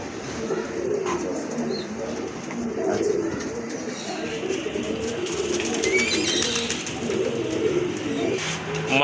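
Pigeons coo in low, rolling calls that overlap continuously at close range, with occasional wing or cage rustles and faint chirps over a steady background.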